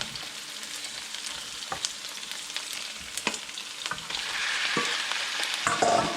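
Ground pork sizzles in a pan in a home kitchen, with a steady crackle, spatula scrapes and stirring clicks, and the frying swelling louder toward the end with no voices.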